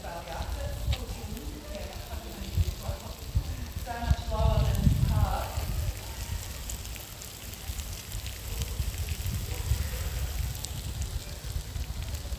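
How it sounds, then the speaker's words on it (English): Chicken sizzling on a barbecue grill at a Halloween party, a steady crackling hiss with brief louder bursts, heard alongside some talking nearby. "I cooking the barbecue"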